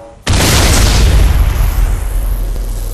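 An enemy Titan's reactor explodes in the video game Battlefield 2142: a sudden loud boom erupts after a brief quiet and rolls on as a sustained, heavy rumbling roar that slowly settles.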